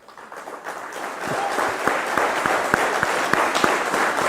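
Audience applause at a World Biofuel Day 2021 celebration swells from a soft start into loud, sustained clapping, with crisp rhythmic claps standing out in the crowd.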